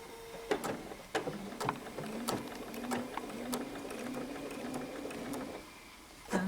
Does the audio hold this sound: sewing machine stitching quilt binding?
yes